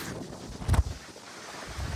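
Gusty storm wind over farmland, blowing straw about, buffets the microphone with a low rumble, peaking in one strong blast before settling into a steady rushing roar.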